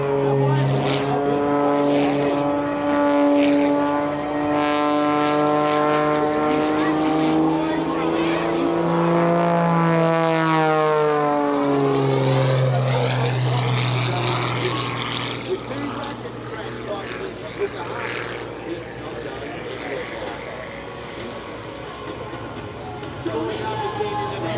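Aerobatic propeller airplane performing at EAA AirVenture Oshkosh, its engine droning steadily and then sweeping sharply in pitch as it passes during a maneuver, with a commentator talking over the sound.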